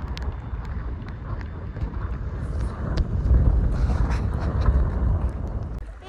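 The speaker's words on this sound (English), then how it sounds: "Drizzling on us right now, and it's pretty windy." Strong wind buffets the microphone at a lakeside park on a drizzly day with whitecaps on the water, a continuous rushing roar that swells midway.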